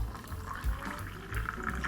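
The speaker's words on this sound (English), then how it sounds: "We'll add a little bit of water to that." Water pours steadily into a container of ham brine, a continuous splashing fill with low gurgling that swells and eases, close and fairly quiet, no talking.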